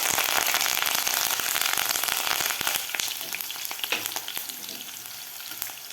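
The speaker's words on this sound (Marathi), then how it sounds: "कढीपत्ता सुद्धा आपला व्यवस्थित परतून झालेला आहे" Green chili and curry leaves frying in hot oil tempering for kande pohe, a loud dense crackling sizzle that eases slightly midway, with spatula stirring clicks, close up.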